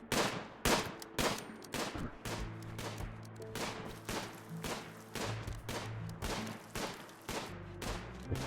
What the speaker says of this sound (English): Shoot them while they're sleeping.